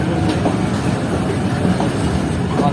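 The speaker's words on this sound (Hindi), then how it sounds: "हमारी 25 अब पहुँच रही है डेरा नवाब साहब रेलवे स्टेशन पर" Bahauddin Zakariya Express running into Dera Nawab Sahib station, a close, steady roar of coaches over the track with faint rhythmic clickety-clack beats, no speech.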